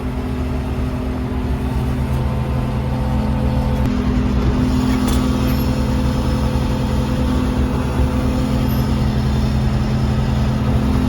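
A John Deere machine backing around through a tight 16-foot door with pins and hydraulic cylinders fitted and freshly repaired brakes, its engine a steady, close, low drone that runs the whole time with no talking.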